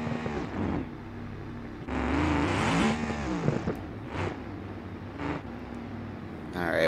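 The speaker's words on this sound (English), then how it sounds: "He's even doing donuts on the dirt for the fans." A stock car engine in a racing video game, doing donuts on the dirt at Eldora Speedway, revs up and down in loud, close bursts with short dips between surges.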